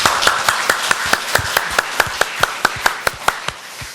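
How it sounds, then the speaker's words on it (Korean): A church congregation gives a round of applause during a Sunday service, heard as steady rhythmic group clapping in regular, evenly spaced beats, fairly close and with no talk over it. "설교하기 전에 한 해 동안 인도하신 하나님께 먼저 감사의 박수 올려드리겠습니다."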